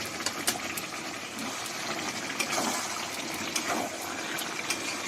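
A small amount of heated water is poured into a jackfruit curry, making a steady, close gushing splash with a few light clinks, and no voice.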